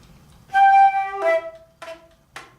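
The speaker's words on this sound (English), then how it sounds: "key slaps." Flute key slaps: a short played tone followed by several sharp percussive pops from keys being struck, each with a brief pitched ring, spaced irregularly and heard close up in a quiet room.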